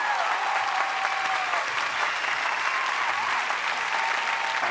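A graduating class and crowd at a high school commencement at El Camino erupt in loud, sustained applause and cheering, a dense wash of clapping that holds steady throughout.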